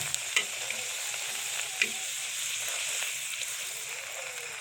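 Paratha frying in hot oil, a steady bright sizzle throughout with a couple of soft clinks as a piece is turned or set down, no talking.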